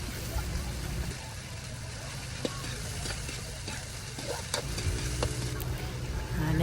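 Corned beef and onions fry in a pan for spaghetti sauce, with a steady close sizzle and occasional stirring scrapes and clinks, and faint background voices.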